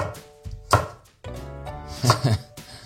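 A knife chops onions into small pieces on a board, with a few sharp, uneven chopping strikes and short pauses between them, close up and without talk.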